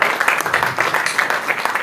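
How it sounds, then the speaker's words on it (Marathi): An audience at a bird-lovers' gathering with a musical play claps together during an honouring ceremony, making a loud, steady wash of applause that holds evenly throughout. "एकदा जोरदार टाळ्या होऊन जाईल."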